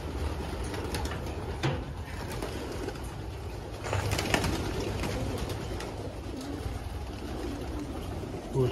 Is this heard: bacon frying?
no